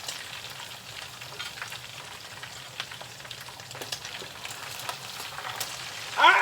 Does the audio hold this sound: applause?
no